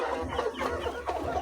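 Poultry chickens on a farm, some birds sick and off their feed, clucking in soft, irregular calls close by over a steady low background hum.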